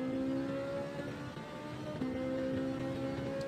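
A race car's engine drones steadily in Gran Turismo 7, a continuous close motor note with a brief dip as the car shifts gears coming out of a chicane on a European circuit.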